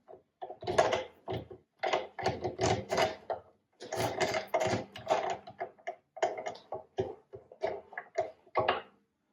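A mini lathe lead screw is threaded into its nut, giving close, intermittent bursts of mechanical whirring and rattling separated by brief pauses, with no talking.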